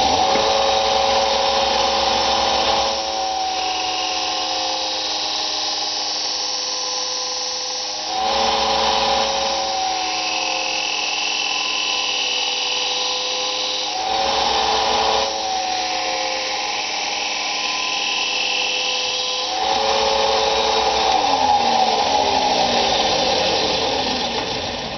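A power tool runs while cutting a baffle for a DIY reef tank sump, a steady whining drone in several long bursts with short pauses between, close and loud, with no talking.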